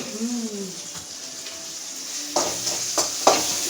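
Khichdi being tempered in a pot at home, with soft sizzling frying and a few sharp stirring scrapes and clinks of a spoon against the pot partway through, fairly quiet throughout.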